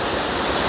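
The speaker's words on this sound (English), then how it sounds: "Just look at the waterfall." A waterfall in the Wanale Hills near Mbale, Uganda, roars steadily and loudly nearby with a dense, unbroken rush of falling water and no voices.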